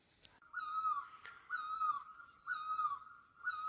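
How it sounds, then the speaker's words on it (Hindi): An Asian koel calls from a tree in a Uttarakhand mountain village, repeated clear rising whistled notes at moderate distance, with faint higher bird chatter in the background. "ऊपर पेड़ में कोयल कूक रही है और कितनी जोर से आवाज आ रही है उसकी"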